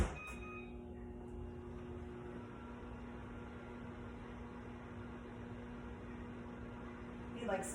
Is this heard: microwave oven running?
yes